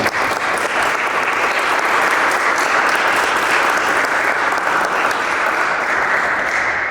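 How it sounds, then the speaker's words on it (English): An audience of 24 college students at the Venice Project Center gives a round of applause: dense, steady clapping close by that holds evenly for the whole stretch without voices. "Please give yourselves a round of applause."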